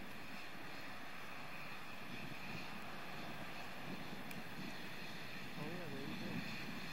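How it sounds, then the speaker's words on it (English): Space Shuttle Discovery's three main engines during second-stage ascent on the STS-116 launch, a steady broadband roar with wind-like rush heard over a radio-style broadcast feed, with a voice speaking beneath it. "Discovery's three engines now powering the second stage."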